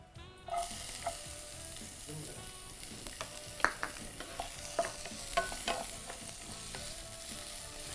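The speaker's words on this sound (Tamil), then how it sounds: "இப்போ இந்த எண்ணெய் காஞ்சிடுச்சு. முதல்ல வந்து வெங்காயம் சேர்த்துக்கிறேன்." Onions hitting hot oil in a pan for a Tamil cooking show dish, giving a sudden hiss that settles into a steady sizzle, with scattered clicks and scrapes of stirring throughout.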